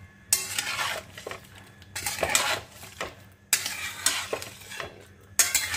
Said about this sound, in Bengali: এরপরে আমি দেখো ভালো করে একটু নাড়াচাড়া করে নেব। সব কিছু আমি ভালো করে কিন্তু একসঙ্গে মিশিয়ে দেব।